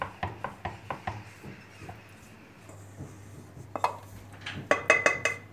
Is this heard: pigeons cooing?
no